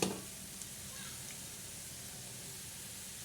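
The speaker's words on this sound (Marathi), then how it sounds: "हे आपला बोकड्याच्या मटणाचा काळा मसाला तयार करते खरपूस असं चांगलं भाजन करून घ्यायचं आहे" Dry sizzle and crackle of black masala for goat mutton curry roasting in a pan with coriander seeds, whole spices and onion, a steady close hiss after a brief stir at the start.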